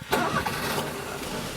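A Daihatsu HiJet Jumbo with a 3-cylinder 550cc gasoline engine cranks and catches, then settles into a steady idle, close and moderately loud with no voices.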